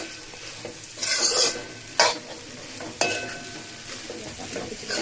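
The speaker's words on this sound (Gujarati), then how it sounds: "ખીચડી આપણી જો આવી રીતે બધા મસાલામાં ભળી જાય મિક્સ થઈ જાય એવી રીતે આપણે ખીચડી કરી લેવાની છે મિક્સ" Khichdi is stirred with spices in a pan, giving a low sizzle broken by a few loud scraping sweeps of the spoon about once a second, close and without talk.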